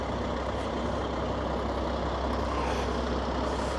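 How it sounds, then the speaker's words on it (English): A heavy truck delivering event equipment in Blackpool rumbles steadily close by, its engine droning continuously under a hiss of broadband noise. "And this is just one of many trucks."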